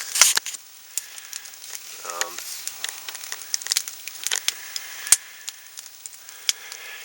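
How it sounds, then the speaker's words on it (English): Steaks cook over a winter campfire in Northern Wisconsin, giving a soft continuous sizzle broken by sharp, irregular crackles and pops of burning wood, close by with little else audible. "so as you can see, the steaks are cooking"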